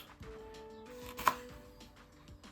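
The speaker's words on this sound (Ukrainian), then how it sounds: "тут можна просто нарізати отак зверху на слайси" A knife chops softly on a cutting board a handful of times, slicing beetroot into strips for borscht, quiet close-up strokes with faint background hum.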